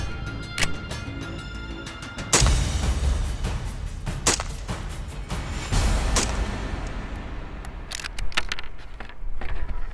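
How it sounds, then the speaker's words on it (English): Three rifle shots ring out at an outdoor range while an Aimpoint sight is being zeroed, sharp loud reports spaced roughly two seconds apart amid lighter clicks and handling noise. "Now we will shoot 3 new rounds"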